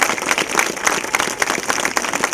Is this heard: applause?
yes